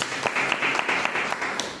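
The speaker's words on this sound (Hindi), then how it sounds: "तो सबसे पहले तो एक जोरदार ताली आर्मी के लिए होनी चाहिए।" A crowd claps for army members at a closing event, giving a dense burst of applause that carries steadily through the short moment.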